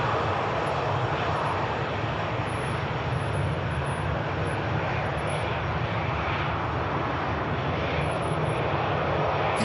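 A fixed-wing airliner backtracking along runway 05 right at Manchester Airport, its engines giving a steady, loud roar that holds unchanged throughout with no talk.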